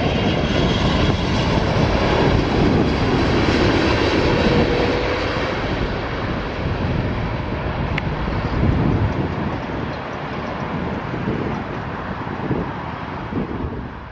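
Loud, sustained jet engine roar from an airliner landing at Toronto Pearson Airport, gradually fading, with wind noise buffeting throughout.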